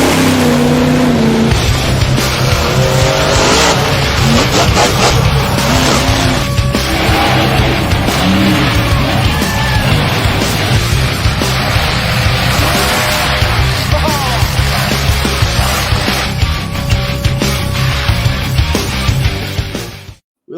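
A monster truck leaps about twenty feet into the air off a Mercedes and crushes cars at a live show, heard as a loud, continuous engine roar with a dense crowd and arena din throughout, ending abruptly.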